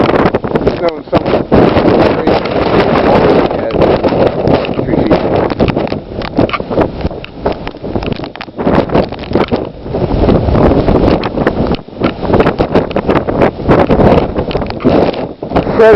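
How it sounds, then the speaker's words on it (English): Strong blizzard wind buffets the microphone during a major snowstorm, a loud continuous roar with gusty surges that never lets up, and speech seems faintly present beneath it. "incredibly strong wind."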